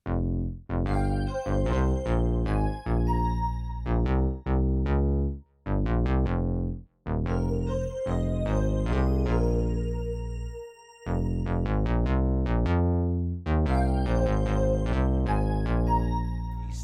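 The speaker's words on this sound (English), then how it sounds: "And that's how I got my bass to sound like this." A punchy Minimoog synth bass plays short, stabby funk notes with slides between some, upfront, alone without any voice.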